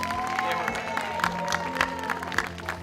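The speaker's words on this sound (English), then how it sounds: "Give her a round of applause." Crowd at a school walk-in with Senator Kaine in Philadelphia applauds Kyla, scattered claps and some cheering over a sustained musical tone, with voices mixed in.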